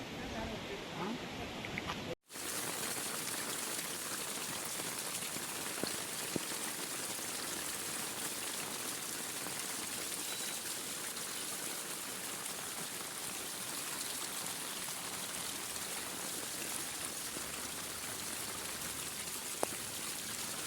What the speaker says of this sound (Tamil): பெருக்கெடுத்து செல்லும் வெள்ள நீரை காணுங்கள்